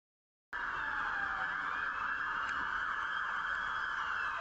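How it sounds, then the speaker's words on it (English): A fire engine and an ambulance sound their sirens on the road, one approaching from ahead and one from behind. The wail cuts in abruptly and stays loud and continuous, with no talking. "We've got a fire engine approaching from the front left, and we've got an ambulance approaching from behind."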